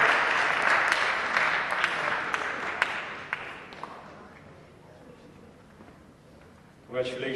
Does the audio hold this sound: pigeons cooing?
no